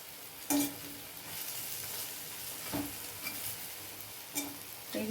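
Plain matar dal fritters (bora) frying in oil in a pan, a soft continuous sizzle with a few sharper stirring and turning clicks of a utensil against the pan, quiet and close.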